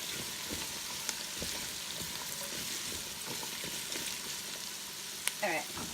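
Peeled, diced russet potatoes frying in a Ninja Foodi and being stirred, a soft steady sizzle with light scraping and occasional clinks, fairly quiet.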